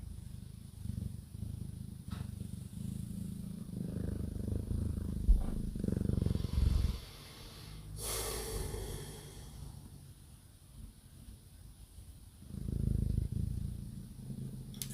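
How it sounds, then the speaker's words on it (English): A cat purrs close by in soft, steady rumbling cycles, rising and falling with each breath, with a brief rustle partway through. "We're going to have a purring break."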